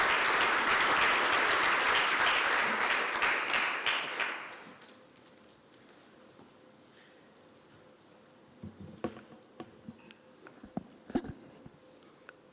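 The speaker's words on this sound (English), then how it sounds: "Okay, a round of applause." Audience applause at a G20 Development Working Group conference session, loud sustained clapping for about four seconds that fades out, leaving a quiet room with scattered faint taps.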